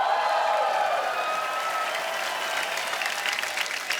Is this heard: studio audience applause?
yes